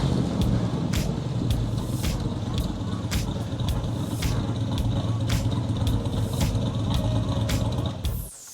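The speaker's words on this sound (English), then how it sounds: "Still idling just a hair fast, or you got the timing a little fast?" An engine idles slightly fast in a residential yard, a steady low rumble running throughout with faint voices mixed in and scattered sharp clicks and taps on top, before the sound drops away abruptly at the end.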